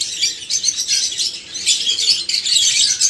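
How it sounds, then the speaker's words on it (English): Pigeons at an aquarium in Sawantwadi make a steady stream of bright chirps and calls. The sound is busy, fairly loud and carries on without pause. "Beautiful pigeons, guys."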